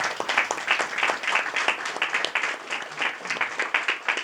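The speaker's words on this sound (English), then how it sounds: "let's give them a round of applause for everything they've done." A roundtable audience gives a round of applause, dense clapping that stays fairly even and close for the whole stretch.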